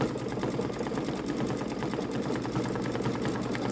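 Babylock Solaris Vision embroidery machine stitching out a flower design, a fast, even needle chatter with a steady motor hum, close and continuous with no talk.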